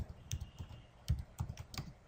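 Typing on a computer keyboard while writing HTML checkbox code, a quick run of close, crisp key clicks in an irregular rhythm, heard alone.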